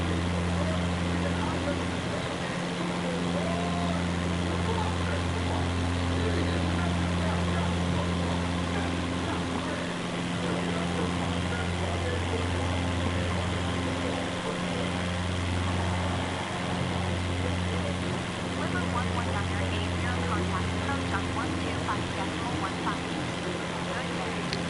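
An aircraft engine in Microsoft Flight Simulator 2024 drones steadily throughout with a low tonal hum, and a person talks over it.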